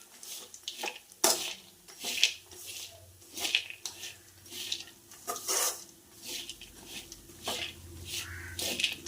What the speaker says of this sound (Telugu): బాగా కలుపుతూ ఫ్రై చేసుకొని పక్కన పెట్టుకోవాలి.